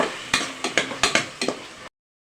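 A spoon scrapes through chili powder, garam masala, turmeric and yogurt in a pan for egg biryani: about six brisk, close stirring strokes in an uneven rhythm, then silence.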